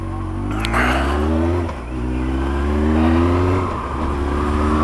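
A Honda CB1300 S motorcycle engine under way, a loud, steady, close drone that dips briefly between gears as the rider shifts quickly, with no talking over it.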